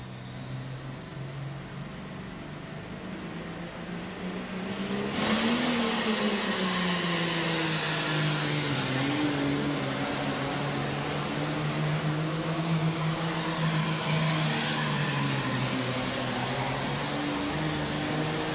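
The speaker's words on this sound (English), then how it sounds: "G stock tractor." G stock farm tractor engine at a tractor pull in Louisville, roaring loudly and steadily for a long run, its pitch rising and then holding in a sustained high whine.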